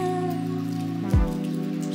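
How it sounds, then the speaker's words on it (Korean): Rain falls steadily on Jeju Island, a soft continuous patter running beneath a sustained musical tone, with one brief low thump near the middle. "비 오는 제주도 낭만 있구만"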